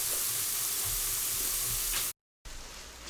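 Meat sears fat side down in a hot pan with a loud, steady sizzle and crackle, broken by a brief total silence before the frying hiss resumes at full strength.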